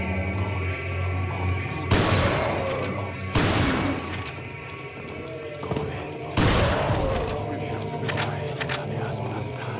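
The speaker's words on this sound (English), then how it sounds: "Alright, shotgun time." Three heavy shotgun blasts from Resident Evil 4, spaced a second or more apart, each a sharp booming crack with a short tail, over game ambience and someone talking.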